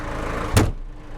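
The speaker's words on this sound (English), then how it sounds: "I have to slam this door, so excuse me." A vehicle door slams shut once with a single sharp, loud thud, cutting through a low steady background hum that fades quieter afterward.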